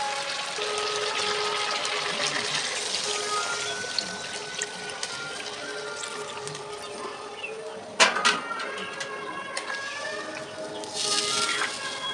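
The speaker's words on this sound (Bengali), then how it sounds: "মাংস থেকে তেল ছেড়ে দিয়েছে মশলা থেকে এবারে জল দিয়ে দেবো" Water poured into a pot of meat curry cooking in oil and spices at home, a steady trickling pour over a soft sizzle, with a sharp clatter near the end.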